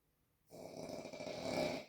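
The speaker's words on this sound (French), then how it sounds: "Et je comprends ton ronflement." A person snores in one long, rasping breath that swells and fades, close and fairly quiet after a moment of near silence.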